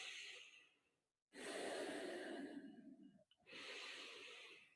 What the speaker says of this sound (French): Respiration abdominale.